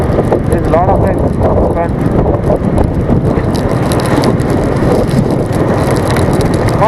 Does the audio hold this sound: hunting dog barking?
no